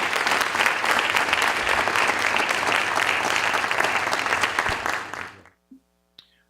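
An audience at a Concord University lecture applauds to welcome speaker Jonathan Kozol, with loud, dense clapping that holds steady for about five seconds before fading out, followed by a couple of faint thuds.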